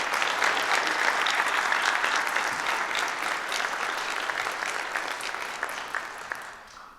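Audience applause for state legislators at a town inaugural ceremony, a full dense wash of clapping that holds steady and then slowly thins and fades near the end.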